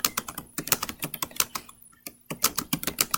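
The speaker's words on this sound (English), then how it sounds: "So you can start by typing in a message." Fingers type a message on a computer keyboard, a quick irregular run of close, crisp key clicks with a couple of brief pauses and no voices.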